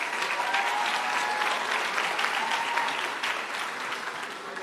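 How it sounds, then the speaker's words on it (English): An audience at a kindergarten graduation applauds the graduates with loud, sustained clapping from a large crowd, tapering slightly toward the end. "Can we get a round of applause for our amazing graduates?"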